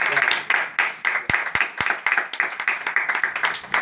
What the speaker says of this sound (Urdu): ایک بار اپنے لیے ہی زوردار تالیاں بجائیے